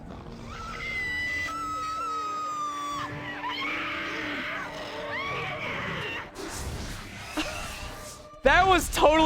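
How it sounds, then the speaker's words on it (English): A stock scream sound effect rings out in the video game Lord of the Rings: The Third Age, drawn-out and anguished and layered over game music and ambience, with a louder burst of cries near the end. "That was totally a stock scream sound effect."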